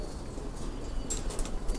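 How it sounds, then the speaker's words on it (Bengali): Pigeons cooing in a home loft, with low soft coos under a light rustle, followed by a few brief higher bird sounds near the end. "এই যে আমাদের আলাদা করা কবুতরগুলো"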